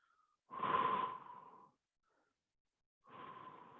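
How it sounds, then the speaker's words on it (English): Slow, deep breathing during a stretching routine, with two long airy breaths separated by a quiet pause, close and fairly soft. "So I'm just slowly breathing"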